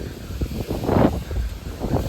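Strong wind buffets the microphone at Sissu Lake near Manali, a steady broadband roar with gusts swelling and fading over two seconds, loud and close with no talk.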